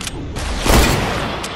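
Heavy gunfire in a Fortnite match, a single booming sniper-style shot with a short echoing tail over dense game background noise, loud and close.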